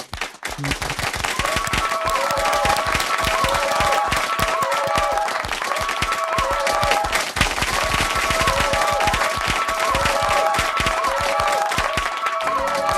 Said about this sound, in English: I'd like everybody to give you a big round of applause for being here today